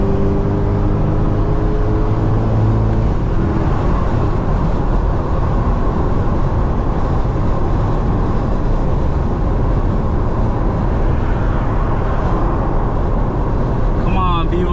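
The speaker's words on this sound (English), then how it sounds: "I'm just enjoying the exhaust sounds right now" A C8 Corvette's exhaust drones steadily and loudly while driving, a continuous rumble throughout with rising engine tone at the start and no speech over it.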